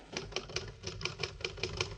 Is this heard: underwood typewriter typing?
yes